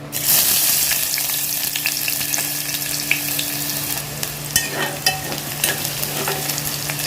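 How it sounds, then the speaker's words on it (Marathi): Onions sizzle in hot oil for chicken curry, a bright hiss that starts loud as they go into the pan, with repeated scraping stirs and clicks of the spoon, close and continuous. "तेल आता आपलं चांगलं तापले आपण त्याच्यामध्ये कांदा घालूया"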